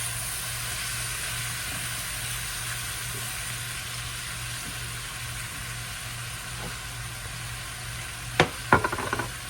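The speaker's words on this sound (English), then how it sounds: "So saute all this up together" Onion and Brussels sprouts sauté in a pan with a steady, even sizzle and a low background hum; a few sharp utensil clatters break in near the end.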